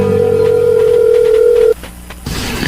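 A telephone rings loud and close, one long steady electronic tone that cuts off abruptly, followed by a brief quiet and then a burst of noise.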